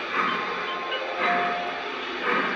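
A train running slowly, a steady hissing rumble with faint rail squeals heard from onboard, continuous and moderately loud with no talk.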